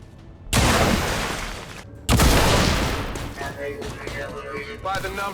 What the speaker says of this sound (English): Pale Rider Hancock has 2 guaranteed hits with his pistol.